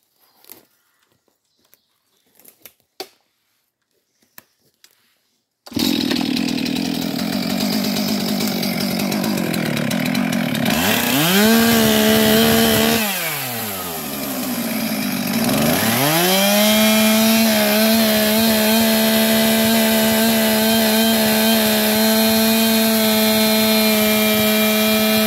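A chainsaw revs loudly and steadily as it plunges into a dangerous tree's stem, its engine pitch dipping under load and recovering, after a brief stretch of faint knocks before it starts.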